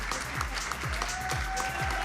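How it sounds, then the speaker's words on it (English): Continuous audience applause at a tennis premier league event in India, even, close clapping with a faint tone and low thumps underneath. "A huge round of applause,"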